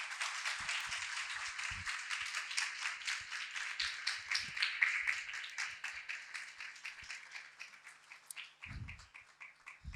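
Audience at a women's church seminar clapping for a speaker, a sustained round of rhythmic, fairly close hand claps that gradually thins toward the end, with a few low thumps underneath.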